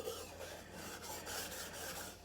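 A dull knife is ground on a sharpening stone, a soft, steady gritty rasp of repeated strokes, close and faint, with no talk.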